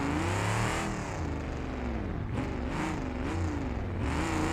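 A muscle car engine with an aftermarket exhaust revs repeatedly in BeamNG.drive, loud and close, rising and falling in pitch over a few seconds with no talk.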